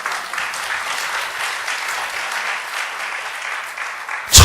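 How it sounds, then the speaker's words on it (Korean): Church congregation applauding during a Korean evangelism seminar sermon, a steady dense wash of clapping throughout, ending in a sudden louder burst at the close. "하나님께 영광의 박수"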